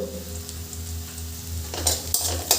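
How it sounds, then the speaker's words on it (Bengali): Chopped garlic and onion with a little salt and turmeric sizzle steadily in hot oil, the hiss swelling near the end with a few sharp scrapes of a spatula against the pan. "এবার আমি রসুন আর পেঁয়াজটা ভালো করে ভেজে নেব।"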